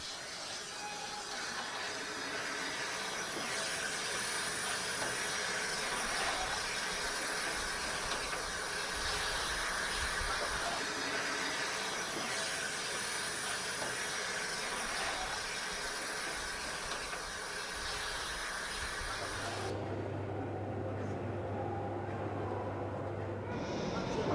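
Steam locomotives lined up at an engine shed give off a continuous broad hiss of steam for about twenty seconds before it cuts away to a quieter low hum.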